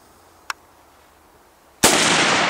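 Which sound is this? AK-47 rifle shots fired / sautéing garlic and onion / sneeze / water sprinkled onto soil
AK-47 rifle shots fired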